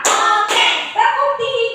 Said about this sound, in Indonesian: Sekarang kita lanjutkan tepuk 1. Tepuk 2.